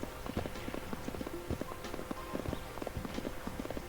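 Horse hooves clip-clopping at a steady walking rhythm along a trail in a PlayStation 1 horse-riding game, Mary-Kate & Ashley Winner's Circle, close and moderately quiet with faint background music.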